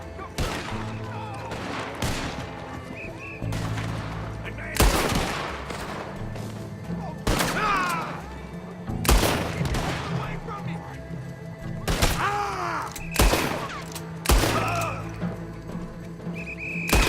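Gunfire in Red Dead Redemption 2 rings out as repeated loud shots and short volleys spread over the whole stretch, with game voices and background noise between the bursts.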